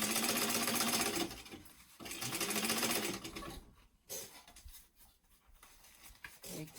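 A sewing machine runs in steady bursts as it top stitches a weekender travel bag, whirring loudly and continuously before pausing and restarting in shorter runs, with no talk.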